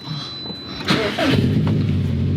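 A car engine cranks briefly and then catches, settling into a steady running rumble close by; an older car with a hood scoop, the start coming after a short whine and click.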